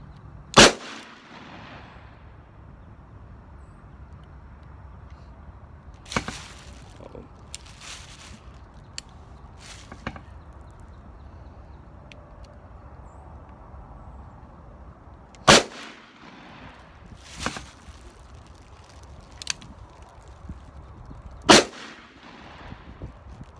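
Smith & Wesson 686 revolver firing Winchester 110 grain hollow point rounds at a range, seven sharp, loud shots spaced irregularly several seconds apart over a steady background hiss.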